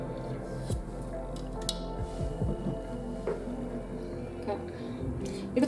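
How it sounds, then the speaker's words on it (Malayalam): Bhatura dough of flour, a little oil and water is mixed and kneaded by hand, with soft wet squishing and slapping sounds, faint clicks and a low background hum, and someone talks at times. "ഇത് കൈകൊണ്ട് തന്നെ കുഴക്കണം"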